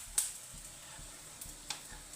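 Garlic, chili and tamarind frying in a little oil for chutney give a soft, steady sizzle with a few faint crackles and stirring clicks, quiet and close, with no voices.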